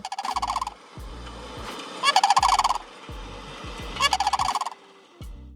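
Loud, rolling sandhill crane calls come in three long bursts, each a rapid rattling trumpet lasting under a second, with quieter low sounds between.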